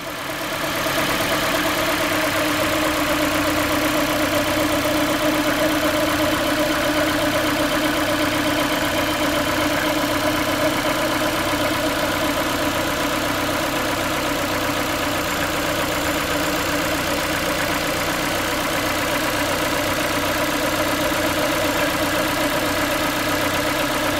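Small 1.6 liter engine of a 2014 Ford Fiesta running steadily at idle in a salvage yard shop, a loud, even drone with constant hum and no change in pitch throughout, no talking.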